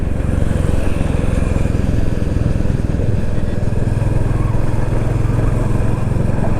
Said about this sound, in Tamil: கிளாசிக் 350ல் 90ல் போயிட்டுருக்கோம்.